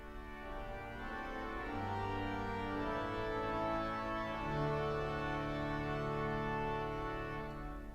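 String division stops of the Royal Albert Hall pipe organ sustain soft, shimmering chords, a steady, fairly quiet blended tone with gently changing harmonies and no voices.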